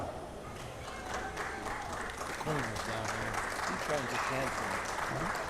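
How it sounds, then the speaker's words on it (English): A harness racing crowd at the Knox County Fair in Mount Vernon, Ohio claps in steady applause while an announcer's voice talks over it, the clapping staying at a moderate distance. "Nova's Legend getting a nice round of applause from the crowd."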